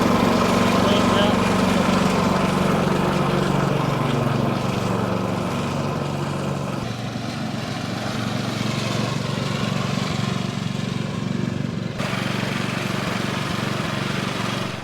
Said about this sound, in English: mowing with a reel mower is actually not that easy